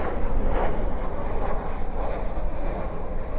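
A Boeing 737 at night at DFW landing with spoilers up and thrust reversers deployed, giving a loud, continuous low engine roar with wind rumble that holds steady throughout.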